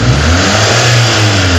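A petrol car engine revs up under acceleration, a loud, close, steady mid-pitched drone with a rising tone lasting under two seconds.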